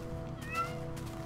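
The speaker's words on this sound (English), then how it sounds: "Oh, we got a cat." A Minecraft cat gives a single short meow, quiet and brief, over a faint steady in-game hum.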